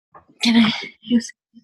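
A single close sneeze during an online finance lecture, sharp and breathy, followed by a brief second burst, with a voice heard faintly.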